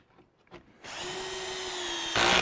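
A power drill whirs steadily as it drives screws into a wooden drawer, starting after a few faint taps, holding a sustained motor whine, then rising louder near the end as the screw seats.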